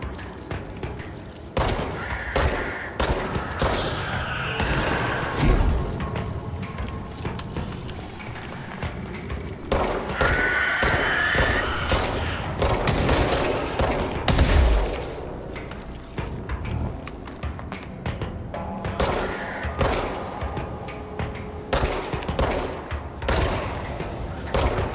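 Bursts of enemy gunfire in the video game Control, repeated sharp volleys and booms spread through the stretch, loud and close with a dense, busy texture throughout.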